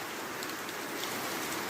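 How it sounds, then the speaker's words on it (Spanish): Heavy rain pouring down at Paraje Pachén, a dense, constant hiss of drops on surfaces, steady and moderately loud for the whole brief stretch. "Así se escucha el sonido de la lluvia."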